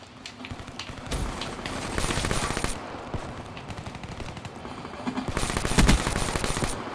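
Quick bursts of automatic gunfire in Call of Duty: Black Ops 3 multiplayer, moderately loud and repeated in clusters across the stretch, with no talking.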